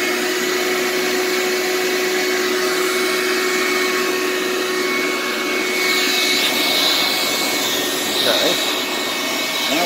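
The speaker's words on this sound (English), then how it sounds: "so now we'll start the vacuum cleaner up" A vacuum cleaner runs loud and steady throughout, its motor whine holding constant before the tone shifts and rises slightly in the last few seconds as airflow changes.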